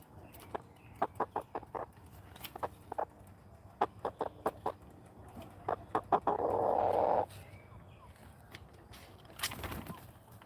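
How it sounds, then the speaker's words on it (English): Backyard chickens cluck in short, repeated bursts before going into the coop on a small farm. A brief louder squawk comes midway, and there is no talking. "Alright, you're the last chicken."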